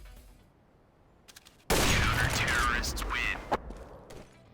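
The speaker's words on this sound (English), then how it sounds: "Known by a few names, Arctic Warfare Police, Magnum Sniper Rifle, or just AWP for short" AWP sniper rifle from the Counter-Strike series firing in-game: a loud, sudden blast after a quiet start, with a sustained burst of gunfire noise and mechanical clatter over about three seconds, fading with a few softer trailing sounds.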